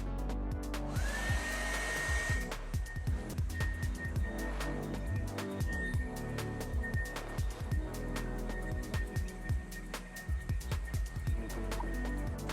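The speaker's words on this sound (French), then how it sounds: "Je viens passer mon sèche-cheveux sur la zone avec les traces blanches pendant 30 secondes." A hair dryer on maximum heat hums with a steady whining tone, drying white marks on leather, while rhythmic knocking or tapping sounds repeat throughout.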